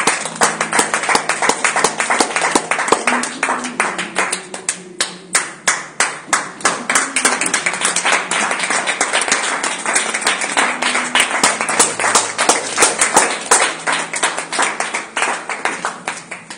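A church congregation claps steadily and loudly in rhythm during a Tuesday worship service, sustained applause continuing throughout with a musical tone humming underneath.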